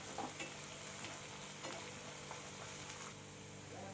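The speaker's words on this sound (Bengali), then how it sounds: "দিয়ে আবারও আমি আদা রসুনটা পেঁয়াজের সাথে ভালো করে ভেজে নেব" Ginger-garlic paste frying with onions in hot oil for chicken tikka masala, a steady close sizzle with scattered scraping stirs from a spoon against the pan, no voices.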